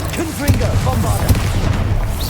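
Booming spell explosions in a video game, loud rumbling blasts with rolling low-end and crackle, close and continuous for a couple of seconds.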